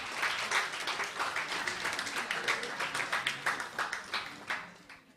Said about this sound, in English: A round of applause for Spiky.